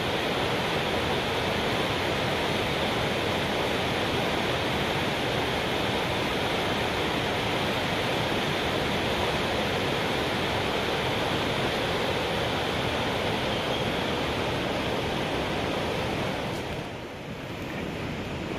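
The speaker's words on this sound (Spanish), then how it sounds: "Este es el río" The Río Blanco in Chiapas, swollen after a night of rain, rushes loudly and steadily as a dense, unbroken roar of flowing water close by, easing slightly near the end.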